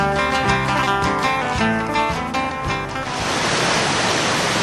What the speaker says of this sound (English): very beautiful waterfall with the roar of its water